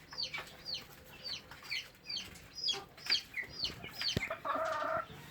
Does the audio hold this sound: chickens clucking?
yes